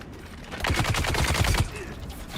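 A turret in Dune: Awakening fires a rapid burst of about a dozen sharp, evenly spaced shots lasting roughly a second. The burst is loud and close and fades into a low tail.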